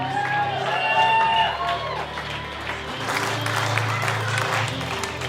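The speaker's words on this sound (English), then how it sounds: "One more big round of applause for a bridal party" Applause and cheering for the bridal party at a wedding reception, a crowd clapping steadily over music for several seconds, swelling louder in the second half.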